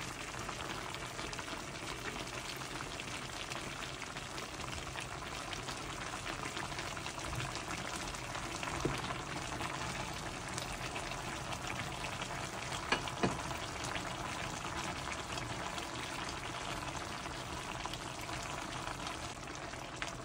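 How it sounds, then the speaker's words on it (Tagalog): A steady, bubbling simmer of pork ribs stew with carrots and potatoes in a pot, continuous and close, with faint sizzling crackle and no talking throughout. "kumukulo."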